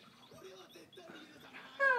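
A dog whimpers and whines on being welcomed home, with soft, close whines building into louder, high-pitched cries at the end.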